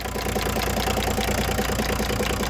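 A diesel car engine runs with a rattling, knocking clatter, a rapid even beat that stays loud and close throughout.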